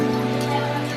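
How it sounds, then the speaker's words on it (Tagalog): Steady rain patters on a surface, a continuous close wash of drops with a faint low hum underneath. "Ulan ng ulan."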